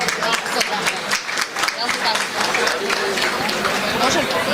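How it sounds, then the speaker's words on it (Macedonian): Audience applause for sports award winners at a town sportsperson-of-the-year ceremony, a dense spread of clapping mixed with crowd chatter and voices throughout. "Аплауз за сите добитници."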